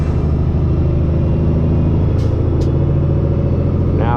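A custom Peterbilt truck with straight pipes pulls hard through an 18-speed transmission, a loud, close, continuous low exhaust rumble with a brief higher hiss near the end, no speech.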